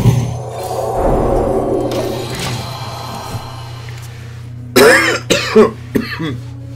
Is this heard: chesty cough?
yes